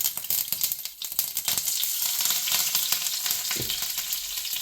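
Curry leaves sizzle and crackle in hot oil while beef pickle is being made, giving a steady, close-up frying hiss with occasional stirring scrapes and no talking.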